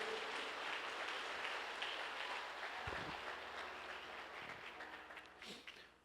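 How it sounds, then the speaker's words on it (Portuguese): Church congregation applauding during a worship service, a steady broadband clapping wash that holds for several seconds before thinning out, with faint voices mixed in. "Dá um aplauso bem forte a Ele,"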